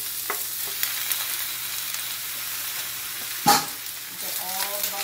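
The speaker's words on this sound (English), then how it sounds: "So I'm adding my chopped stems in and the whole bok choy." Chopped bok choy stems and whole baby bok choy sizzle steadily in a hot pan, with a loud hiss as they go in, then scraping stir-fry strokes and faint talk.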